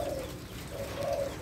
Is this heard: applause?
no